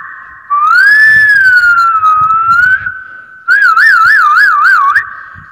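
A voice imitates an ambulance siren, first a long rising and falling wail, then a pause, then a faster wavering warble, loud and close with nothing else heard.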